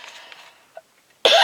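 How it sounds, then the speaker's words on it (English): A single sharp cough rings out loudly near the end, preceded by faint breathy background sounds and a small throat noise, recorded close up indoors. "I hate to cough, it's allergy season."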